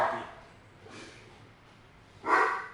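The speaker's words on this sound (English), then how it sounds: "They like barking at people." Puppies bark in a few short, sharp yips spaced a second or so apart, fairly quiet and a little distant, the last bark loudest.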